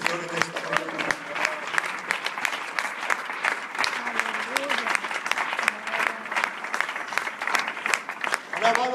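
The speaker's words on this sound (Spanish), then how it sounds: "Te quiero aplaudir el nombre del Señor en esta mañana." Congregation applause during a church service in Madrid, sustained crowd clapping throughout, with voices speaking and calling out over it.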